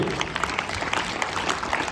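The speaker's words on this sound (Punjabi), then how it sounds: "ਤੇ ਇਸ ਬੱਚੇ ਦੇ ਨਾਮ ਤੇ ਖਾਸ ਤਾਲੀਆਂ ਜਿਹਨੇ ਇਹ ਨਾਟਕ ਲਿਖਿਆ ਤਿਆਰ ਕਰਾਇਆ" A school audience applauding the seventh-grade student who wrote the class drama, dense continuous clapping from a crowd of hands, moderately loud and even, with no voices on top.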